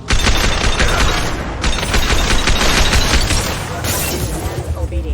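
A captain gunning down his own crew in the Mass Effect video game: rapid, loud bursts of automatic gunfire, dense cracking shots packed closely together, easing off slightly toward the end, with a voice briefly underneath.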